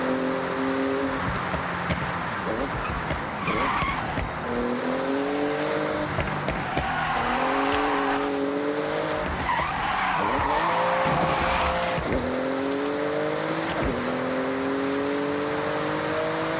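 A Porsche in the Forza Horizon racing game screams through a speed zone, its engine revving up and down through repeated gear shifts, with tires squealing, loud and continuous.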